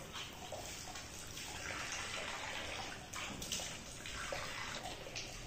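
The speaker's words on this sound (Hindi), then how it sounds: "चलो मुंह हाथ धो लो, मुंह हाथ धो, पाँव के लिए सही होता है। इस टाइम पानी बहुत ठंडा," Cold water splashes and runs as someone washes face and hands, a steady close gushing and sloshing with small breaks in the flow.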